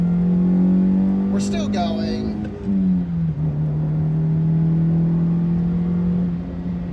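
Car accelerating hard from a roll, a loud steady engine drone heard from inside the cabin with a brief shift dip midway before the drone settles and continues; talking is heard over it early on.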